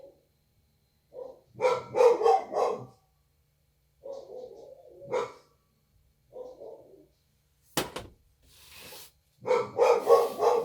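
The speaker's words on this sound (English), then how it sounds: "Oh God, those dogs." Several dogs barking nearby in repeated bursts of loud, rapid barks separated by short pauses, heard alone without talking.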